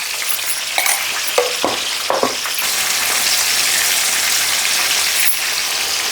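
A brinjal and soya biryani mixture fries in a pot with a constant bright sizzle. A few sharp scrapes and clinks of stirring come early on, then the hiss carries on alone.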